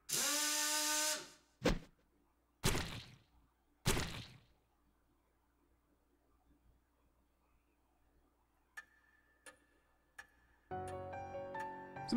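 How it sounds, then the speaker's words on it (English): A drill in the horror game Death Mark whirs in a sustained burst, then drives in three short separate spurts, followed by quiet, faint ticks and a closing tonal clatter. "Basically, he drills holes in you."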